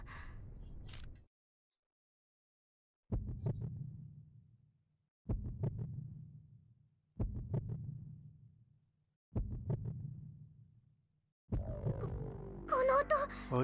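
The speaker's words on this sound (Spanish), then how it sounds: "El latido del corazón del dragón de las sombras." In the video game Tokyo Mirage Sessions, the shadow dragon's heartbeat sounds as five deep, booming, evenly spaced thumps, each fading slowly, in an otherwise quiet stretch, with game sound and talk at the start and end.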